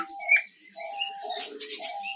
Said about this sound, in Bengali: এই যে এখানে একটা পাখির বাচ্চা আছে যে এখানেও কিন্তু বাবা মায়ের সাথে পাখির বাচ্চাটা আছে